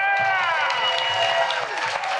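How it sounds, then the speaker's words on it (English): Audience applause and cheering at a Clerks fan panel at Rhode Island Comic Con, a dense, steady wash of clapping with a bright tonal band and a voice running over it throughout. "Keep on clapping."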